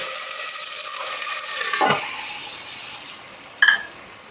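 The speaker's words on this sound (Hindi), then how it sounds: "इस मटन वाले वाटर को मैं इसमें डाल दूँगी दम के लिए।" Mutton stock poured into a biryani pot, sizzling with a burst of hiss and steam near the two-second mark, then settling into a quieter simmer with a small clink at the end.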